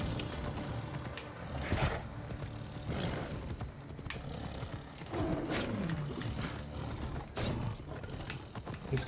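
Lion roaring in the video game Assassin's Creed Odyssey, several deep, rough roars in separate bursts over steady ambient game noise and faint clopping hooves.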